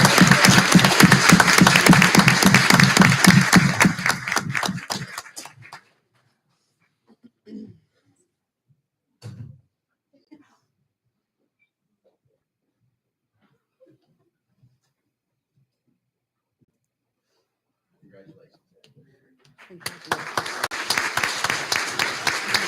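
A school board meeting audience applauds to congratulate a student cheerleader, a dense burst of many hands clapping that fades into near silence with a few coughs and shuffles, then swells again into another round of applause.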